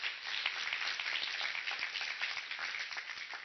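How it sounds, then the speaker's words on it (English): A round of applause for a councilwoman at a City of Jackson press conference for the International Ballet Competition, dense steady clapping from a small indoor audience lasting throughout, with no talk over it. "Please give her a round of applause."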